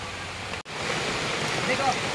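A steady, dense roar of heavy rain pours down without pause, broken only by one brief dropout near the start.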